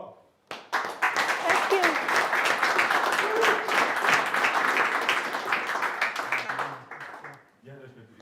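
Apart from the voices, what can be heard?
audience applause after a talk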